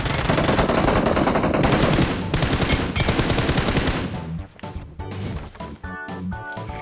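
Rapid automatic gunfire from a battle royale video game, dense bursts of shots that thin out into scattered crashes and impacts.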